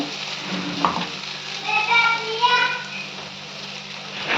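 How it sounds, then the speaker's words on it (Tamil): Okra sizzles and hisses in a hot pan with occasional stirring scrapes, and faint children's voices chatter in the background. "இப்போ ஃப்ரை பண்ணுங்கள்"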